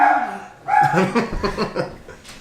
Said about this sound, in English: I'm not sure what he's barking at.